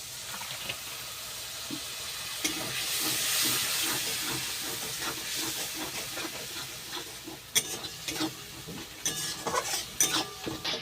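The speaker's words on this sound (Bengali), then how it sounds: "মশলাটা যাতে পুড়ে না যায় তার জন্য অল্প একটু জল দেব।" Spices frying in a pan sizzle hard as a splash of water hits them, a loud steady hiss with stirring scrapes, while cooking a cauliflower and potato curry with poppy seed and cashew paste.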